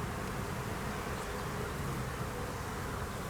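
Agitated honey bees swarm a hive during a winter inspection, their dense, continuous buzzing filling the air at moderate volume with no pauses.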